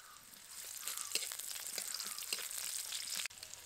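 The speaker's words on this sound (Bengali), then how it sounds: "কড়াইতে আবারও সর্ষের তেল দেব। তেলের মধ্যে দিয়ে দেবো পেঁয়াজ কুচি।" Chopped onion frying in hot mustard oil in a wok over a village cooking fire, a continuous bright sizzle with crackling pops and occasional stirring scrapes, close and steady throughout.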